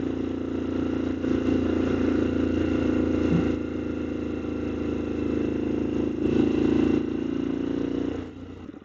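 A motorcycle engine runs steadily while riding, a loud continuous buzzing drone with stable pitch and slight swells, heard close and alone until it eases off at the very end.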